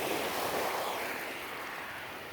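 Ocean waves wash steadily onto a beach, a broad, even surf roar with faint wind, moderately loud and continuous with no voices.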